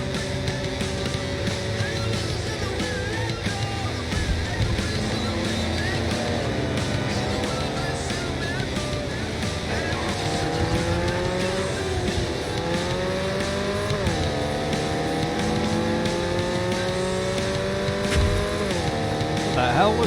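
A car drives through city traffic in Cyberpunk 2077, its engine droning steadily and rising and falling in pitch as it accelerates and shifts, with tire noise and a busy, continuous loudness throughout.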